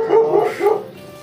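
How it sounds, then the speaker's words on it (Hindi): A village dog in snowy Uttarakhand hills barks a few times in quick succession, close and loud, with a slight whimpering tone. "ये हमारे शेरू भौंक रहे हैं।"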